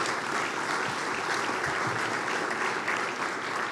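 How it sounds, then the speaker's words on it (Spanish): An audience at a forum on defending democracy in the Americas applauds former Colombian president Pastrana, a full, loud, continuous roar of clapping from a large crowd with no speech. "Le pido un aplauso al presidente Pastrana."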